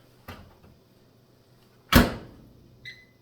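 A soft click, then a firm thud as a microwave door shuts, followed by a brief electronic beep.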